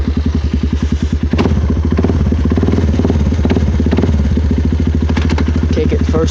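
A Suzuki KingQuad 400 ATV engine fitted with an HMF exhaust runs close and loud with a steady, fast throbbing pulse, briefly dipping then settling back into an even idle-like chug.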